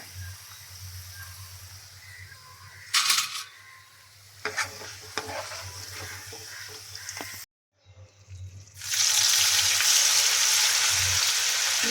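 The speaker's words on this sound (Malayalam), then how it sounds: "ഇതുപോലെ നമുക്ക് മാറ്റിയിരിക്കുന്ന കിഴങ്ങ് മൊത്തം നമുക്കൊന്ന് ഫ്രൈ ചെയ്തെടുക്കാവേ" Potatoes frying in hot oil, a close bubbling sizzle with stirring clinks and scrapes, a brief pause, then a loud rushing sizzle as more potatoes go into the oil, no talking.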